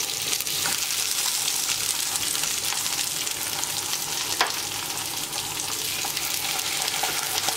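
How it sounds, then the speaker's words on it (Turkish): Food sautéing hard in a frying pan with chilli flakes, a steady dense sizzle that stays loud and even throughout with a few small crackles and spits, close up and with no voices. "Şöyle 1-2 dakika kavurayım"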